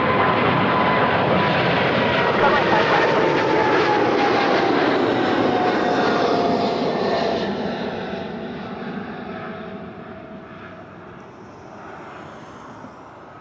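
An Air Canada Boeing 787 takes off from Toronto Pearson airport with a loud, sustained engine roar, steady and close at first, then slowly fading as the jet climbs away.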